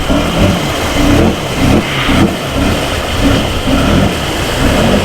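A quad ATV engine runs loud and close during an extreme mud test, its rumble pulsing in rough, uneven surges as the throttle rises and falls, with no talk over it.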